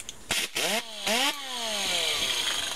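An air-powered grinder working on an electric motor to strip copper, its pitch rising and falling in short bursts before settling into a steadier whine, with the air supply iced up and starving it of revs.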